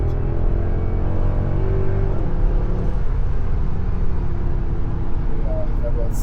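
A Mercedes C63 AMG 507 accelerates hard in sport mode on an open road, a loud steady engine roar heard from inside the car with the pitch shifting through a gear change.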